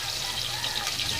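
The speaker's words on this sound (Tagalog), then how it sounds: "Tubig dalawang tasa yan." Water poured into a cooking pot holding sautéed garlic, onion, tomato and canned sardines, a brief continuous splashing trickle, close and moderately quiet, heard alone.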